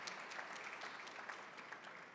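A banquet audience gives faint, steady applause, a continuous patter of many hands clapping at a distance without a break.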